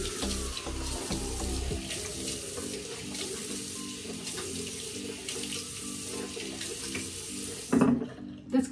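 A tap runs steadily into a sink in a bathroom during a skincare routine, a continuous close splashing stream that stops abruptly near the end, followed by a couple of small knocks.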